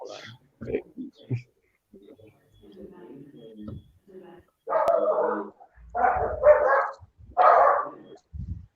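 A dog on a live-streamed interview barks in several loud bursts, close to the microphone, with whimpering between them. People talk at intervals underneath.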